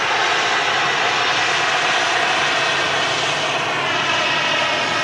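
Jet airliner engines at Manchester Airport, a loud, continuous broadband roar holding steady throughout with no talk.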